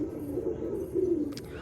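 Pigeons kept in a loft for sale near Kalyanpur rail station in Baruipur coo softly. Low, rolling throaty calls swell twice close by, with a faint chirp near the end.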